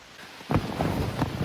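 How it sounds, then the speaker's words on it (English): Rain falls steadily around a campsite in the Wisconsin Northwoods as gear is packed up, a dense close patter with a few sharper taps and rustles. "It's never fun packing up in the rain."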